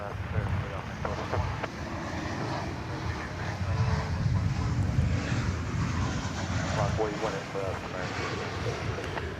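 Airliner taking off at DFW airport, a steady broad jet roar with wind noise that swells slightly midway and holds at a distance throughout.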